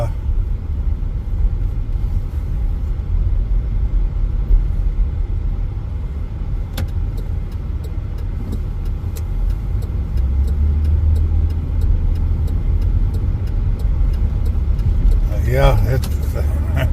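Steady low road rumble and engine drone from inside a moving car on a windy, snowy day, continuous throughout, with a voice talking over it.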